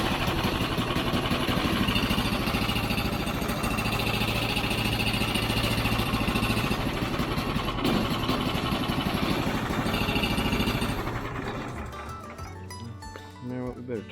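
A gasoline engine on a portable sawmill runs loud and steady nearby at a constant idle, and near the end it is cut off and dies away.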